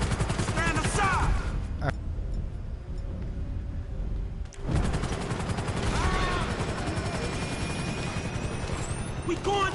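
Gunfire in the video game GTA V, with dense bursts of rapid shots alongside other game action. A quieter lull falls midway before heavy firing resumes. Voices talk over parts of it.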